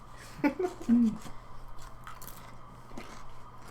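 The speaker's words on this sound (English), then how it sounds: "I'm gonna eat a Pringle right in front of him." A Pringle potato chip bitten up close, a few crisp crunches followed by softer chewing, with a voice partly overlapping.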